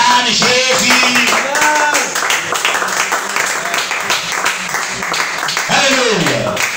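A church congregation at a French-language Christian service claps and cheers in praise of Jesus, a loud and sustained wash of applause with voices shouting and speaking over it throughout.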